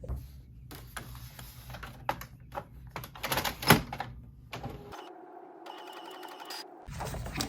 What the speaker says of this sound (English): So we're going to pop this into the printer and get it all printed out.